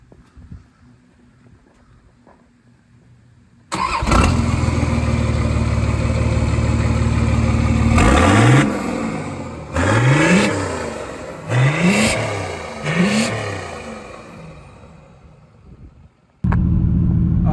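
Up close, a Toyota TD42 diesel engine in a ute fires up and idles, then gets four sharp rev blips with dropping pitch between them, before cutting off and restarting.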